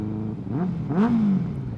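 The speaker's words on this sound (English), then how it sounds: "It's a very sweet sounding engine" A 2015 Benelli BN600i/TNT600 motorcycle engine revs up briefly, the pitch climbing then holding at a higher whine, close by with no talking.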